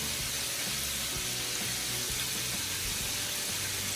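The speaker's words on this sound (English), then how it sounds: "And y'all see it's beginning to fry." Chicken pieces frying in hot oil, giving a steady, dense sizzle and crackle that fills the whole clip without pause, close and fairly loud.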